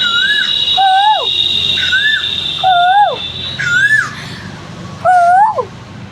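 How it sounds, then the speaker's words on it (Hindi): An Asian koel perched on a rooftop gives five loud, clear calls, each a rising then falling two-part whistle repeated at irregular intervals, over a steady high background hum. "बैठी है कोयल और कू कू किए जा रही है।"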